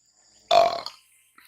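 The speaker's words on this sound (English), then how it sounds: "Burp." A single short, throaty burp, close and fairly loud, lasting under half a second and trailing off, with near silence on either side.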